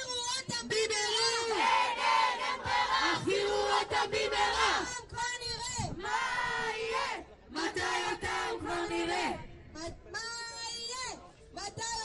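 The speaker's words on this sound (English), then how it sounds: "We're in the middle of a protest here in Tel Aviv, where all of these people are asking for" A large protest crowd in Tel Aviv chants and shouts in loud, rhythmic waves, voices rising and falling together close by, with brief lulls between bursts of massed yelling.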